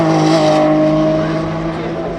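A Porsche 911 reimagined by Singer drives at the Goodwood Festival of Speed, its engine a loud, steady harmonic drone held close throughout, easing slightly toward the end amid crowd ambience.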